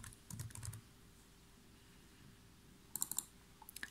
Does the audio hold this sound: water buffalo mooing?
no